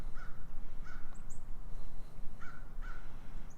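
Crows caw outdoors in a garden, several harsh calls in pairs at a moderate distance over a steady background hum, with no talking.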